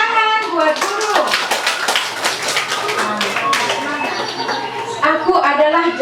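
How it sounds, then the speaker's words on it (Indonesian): Kindergarten children clapping after a classmate's bird performance, a rapid patter of small hands mixed with lively children's voices and chatter throughout, close and fairly loud. "Oke, tepuk tangan buat burung."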